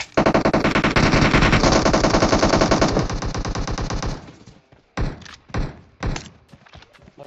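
Gunfire in PUBG Mobile opens with a loud, rapid automatic burst lasting about four seconds, then tails off into a few separate, sharper shots with short pauses between them.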